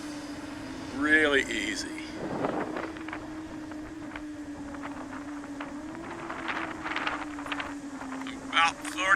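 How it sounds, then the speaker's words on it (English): An iFlight Helion 10 6s FPV drone launching and flying, its motors holding a steady high buzzing drone that rises and dips with throttle, with wind noise and someone talking briefly over it. "And launching. Oh, it took off easy."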